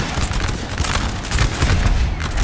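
Continuous musket fusillade from massed infantry lines trading volleys in a Napoleonic battle at Eylau, 1807, dense overlapping cracks and booms rolling on steadily with no pause.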